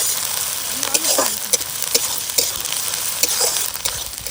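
Onion and ginger-garlic paste frying in a pan at an island campsite, a steady close sizzle broken by repeated scraping and clanking stirs, fairly loud, with no voices.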